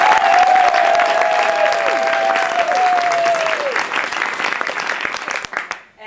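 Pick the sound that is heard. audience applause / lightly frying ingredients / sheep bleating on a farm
audience applause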